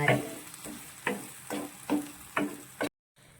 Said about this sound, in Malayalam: ഇനി ഇത് നന്നായി ഇളക്കി ഇതുമായിട്ട് മിക്സ് ചെയ്യണം